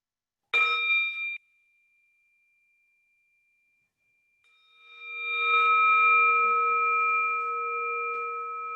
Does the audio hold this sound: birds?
no